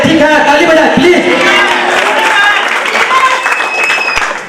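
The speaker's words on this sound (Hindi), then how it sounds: "ताली बजाए प्लीज" An audience applauding loudly at a public gathering in Darbhanga, the clapping and cheering close and sustained, easing off near the end, with voices mixed in.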